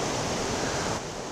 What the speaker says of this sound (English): You can see these fantastic falls here with this little plunge pool